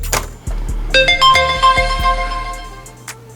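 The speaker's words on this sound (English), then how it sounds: "And obviously my phone is going off right now." A mobile phone rings with a melodic tone of repeated bright notes and a rhythmic electronic beat, playing loudly and close with no talk.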